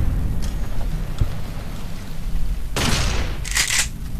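A sharp sniper rifle shot from Fallout: New Vegas rings out over a low ambient rumble. A second, shorter crack follows about a second later.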